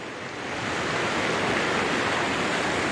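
The Baspa river rushing past Chitkul village in Himachal, a broad steady roar of fast-flowing water, loud and close, with no voices over it.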